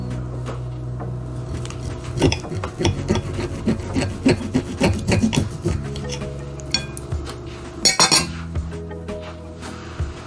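A knife saws into a thin sous-vide cooked beef steak, producing repeated rasping strokes and light clinks of cutlery against a plate, with one louder scrape near the end.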